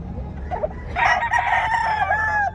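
A rooster crows once at a rooster expo in Carbon Public Market, Cebu City, loud and fairly close, its drawn-out call ringing over a low, steady background murmur.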